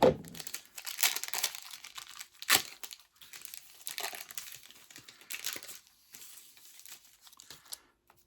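Crinkling of a plastic garbage bag wrapped around a bundle of 1990 Score baseball cards, close crackling and rustling bursts with quieter handling in between, no voices.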